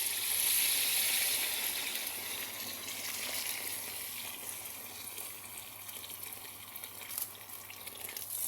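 Hot water pours steadily into a cooking pot, a soft continuous gushing and splashing that fades slightly as it goes on, with no voices over it.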